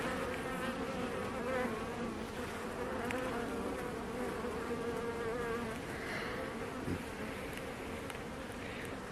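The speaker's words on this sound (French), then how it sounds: "On aura vu les abeilles." Honeybees buzz steadily from an open hive during an inspection, a dense, close, continuous drone with no talk over it.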